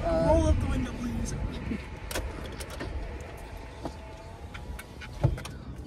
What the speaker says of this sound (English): roll up the window, please